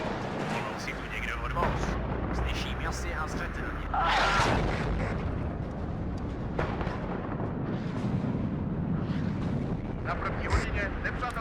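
Artillery barrage in the WARNO real-time strategy game: dense, continuous rumbling blasts and crackling impacts, louder in the middle, with a voice talking over the bombardment throughout.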